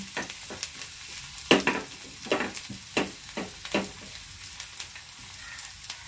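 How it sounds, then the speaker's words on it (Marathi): Chopped garlic frying in ghee gives off a soft, steady sizzle, with a run of distinct scraping stirs and clinks near the pan through the middle of the stretch, then lighter scattered ticks and crackles. No one speaks. "हे बघा, आपलं लसूण आता मस्त फ्राय झालेलं आहे."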